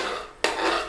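A spoon or spatula scrapes and stirs chicken tikka masala in a pan, a steady close rasping with one sharper knock against the metal partway through.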